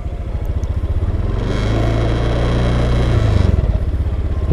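A scooter engine revs up steadily as the rider applies throttle through a full-lock U-turn, a close, continuous mid-pitched drone that swells in the middle and eases off at the end.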